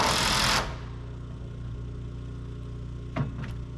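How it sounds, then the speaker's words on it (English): A big worm drive circular saw cutting through foam insulation during roof work on an A-frame cabin, a loud, bright, whining cut for about half a second, then the motor winding down with a low hum and a brief clatter. "I love that big worm drive"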